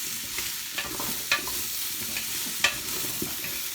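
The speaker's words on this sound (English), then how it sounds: "Now we're going into the carrots and parsnips. And again, carry on with the stirring." Carrots and parsnips stirred into frying broccoli, onion and garlic in a pot for homemade vegetable soup; a continuous sizzle sounds close by, broken by sharp, irregular scrapes and clacks of the spoon.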